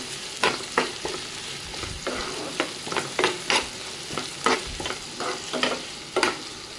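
Onion and tomato being stirred and sautéed in a pan for a spicy rassa, with repeated spatula scrapes and clatters at an irregular rhythm over a soft steady sizzle, close and moderately loud.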